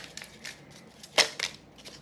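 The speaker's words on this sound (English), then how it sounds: "So y'all can see that I'm shuffling and not just trying to." Oracle cards shuffled by hand during a love-themed reading, giving soft papery rustles and riffling flicks, with one sharper crisp snap near the middle, quiet and close with no talking.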